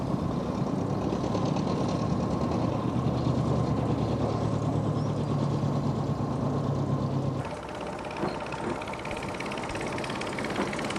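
A narrow-gauge diesel locomotive with a transversely mounted water-cooled Dorman engine, two-speed reversing gearbox and chain drive, running with a loud, steady rumbling throb and clatter whose tone shifts sharply partway through.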